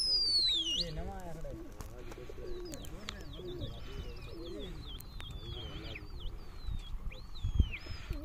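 Pigeons coo and call at an outdoor pigeon-flying tournament, soft repeated coos and bird calls running steadily through the clip over background chatter and crowd noise, with a higher whistle-like call near the start.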